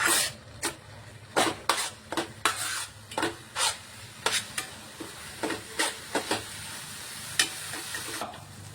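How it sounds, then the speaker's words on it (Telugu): Gongura leaves with garlic cloves frying in oil in a pan, a soft steady sizzle under a string of sharp scraping stirs that come at an irregular rhythm, close and fairly quiet. "గోంగూర అయితే ఆయిల్లో మంచిగా ఫ్రై అయిపోయింది"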